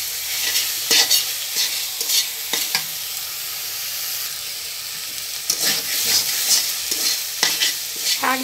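Red amaranth greens fry in oil while a spatula stirs them, giving a steady close hiss of sizzling broken by repeated sharp scraping strokes against the pan, with no talking.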